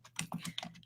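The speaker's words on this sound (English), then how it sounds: "I'm going to type it in the chat." Quick typing on a computer keyboard, a short burst of several close, crisp key clicks in uneven rhythm over a low steady hum.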